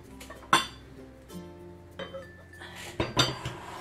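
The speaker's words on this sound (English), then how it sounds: "The other thing I got was a nice crock pot." A blue ceramic crock pot with a decorative motif and its lid are handled up close, giving several sharp clinks and knocks of ceramic against ceramic with short quiet gaps between them.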